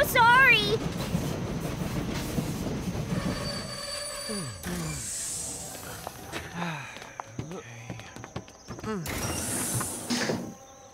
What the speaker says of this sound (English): The train's running late today. Oh, here it comes.